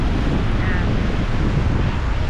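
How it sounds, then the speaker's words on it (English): Big ocean waves rolling onto an empty, windy beach, a loud continuous roar of surf mixed with heavy wind buffeting close to the microphone. "Big waves coming in."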